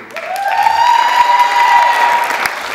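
An audience at a 2012 athletic hall of fame ceremony breaks into sustained applause and cheers for an honoree, a loud, steady wash of clapping with a whistle rising and holding over it.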